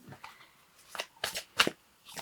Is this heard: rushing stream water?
no